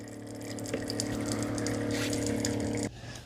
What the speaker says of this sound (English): So it's filling that up with water.